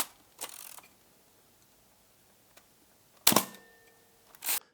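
Three crisp shutter clicks from a Canon 5D Mark III full-frame camera, each a sharp mechanical snap, spaced apart in a quiet room, with faint handling ticks between them.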